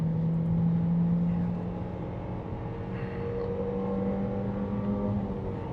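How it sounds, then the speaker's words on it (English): Nissan Kicks engine revving under hard acceleration, as if merging onto an on-ramp, heard from inside the cabin as a steady droning whir that rises in pitch and then eases off. "As you're revving up, it's just not a lot of power."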